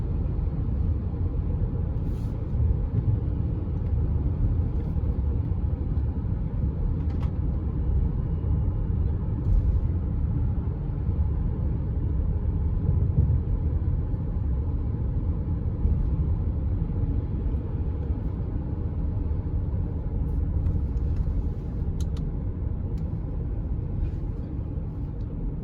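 A Chrysler Pacifica Hybrid minivan rolling downhill, heard from inside as a steady low cabin rumble and road noise that stays even throughout, with no speech.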